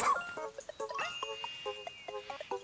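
Oatchi, the dog companion in Pikmin 4, gives a string of short, bright yips and barks with whimpering tones in a game soundtrack, close and fairly soft, with no talking.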